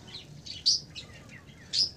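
Parrots in a mini zoo give faint, scattered chirps, with two sharper high calls standing out.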